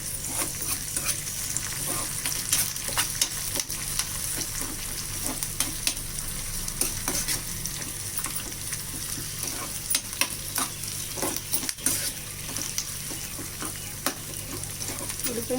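Curry leaves and onion fry in a pan, giving a steady, close sizzle with frequent crackles and pops and occasional stirring scrapes throughout.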